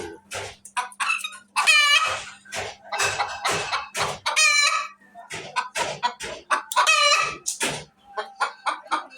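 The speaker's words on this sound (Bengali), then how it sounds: "এই যেখানে মুরগি, এই যেগুলা সব ফার্মি" Several caged farm chickens, including Light Brahmas, clucking and squawking close by, with a rooster-like crow rising among the calls; busy, overlapping bursts over a low steady hum.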